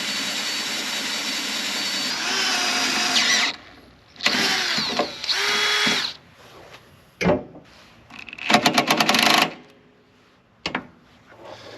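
A power tool tightens LED light mounts on a JCB skid steer in several loud, close whirring bursts of varying length, separated by short pauses.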